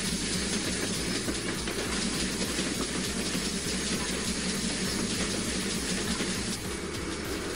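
A steam train in the Train Sim World game runs slightly uphill, its wheels beating a steady, rhythmic clickety-clack over the rails beneath a dense, loud rolling roar; no voices.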